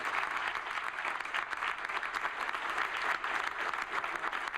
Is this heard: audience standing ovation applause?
yes